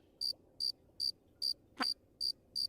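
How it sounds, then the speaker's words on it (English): A cricket chirps in short, evenly spaced pulses, about seven bursts in under three seconds. Each chirp is sharp and high, and a faint low hum sits underneath. "crickets"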